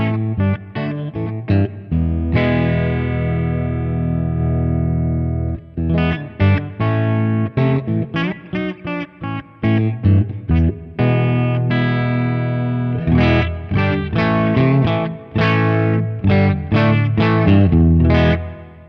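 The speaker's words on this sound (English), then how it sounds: "Sounds like a Fender Bassman to me." An electric guitar runs through the Fender Bassman amp model of a Sonicake Matribox, with bass turned up and presence down, playing crunchy distorted chords and riffs in bursts separated by short pauses.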